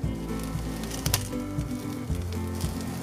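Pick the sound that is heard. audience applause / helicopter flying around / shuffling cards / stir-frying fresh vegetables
stir-frying fresh vegetables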